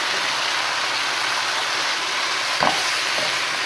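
Chicken frying in a pan with chili and garlic powder for a Subway-style sandwich filling, a steady close sizzle running throughout with a brief clatter near the end.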